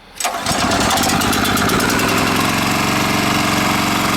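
A towable backhoe's small gas engine, started cold in the morning with the choke on, catches after a single pull and settles into a steady, loud, close idle chugging with no one talking.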